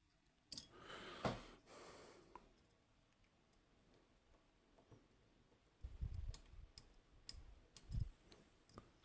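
Small metallic pin clicks from a Fichet-Bauche MxB lock being picked clockwise, faint and close, with sparse ticks and a few louder taps and handling knocks under quiet breathing.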